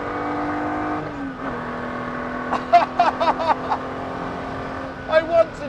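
A Ferrari 250 SWB restomod by GTO Engineering pulls under power, a steady engine drone heard from close by, with a voice briefly breaking in over it.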